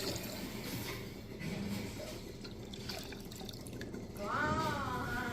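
Boiled lion's mane mushroom water poured into alcohol for a tincture, a steady trickling splash that runs on throughout at moderate loudness, ending in a brief bright swirl.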